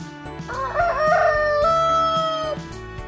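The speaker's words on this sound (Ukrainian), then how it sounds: "Так, півник." A single loud rooster crow rings out, long and drawn-out, over a soft background tune.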